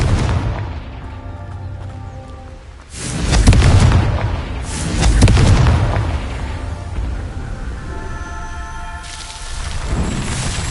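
Repeated blasting-spell explosions in Hogwarts Legacy on PlayStation 4 Pro: a loud booming burst near three seconds, another around five, then rumbling blasts trailing off and a final burst near the end over a steady game soundscape.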